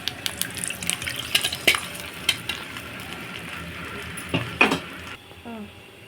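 Tempering of crushed shallots and curry leaves in hot oil is poured into tamarind rasam, with scattered clinks of a metal spoon and pan, a soft sizzle underneath, and a brief hiss near the end.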